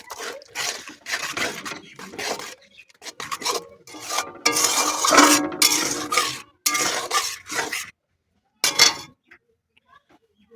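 Egg and cauliflower curry stirred in a pan, with bursts of scraping and clinking from a spoon against the metal, broken by short pauses and near silence.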